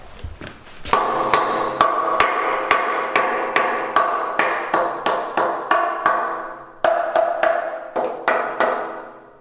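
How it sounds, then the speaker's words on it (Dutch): Repeated sharp metallic hammer taps on a metal vehicle chassis, ringing out about two or three blows per second with a steady rhythm, close and loud with no talking. "Met een hamer tegenaan kloppen"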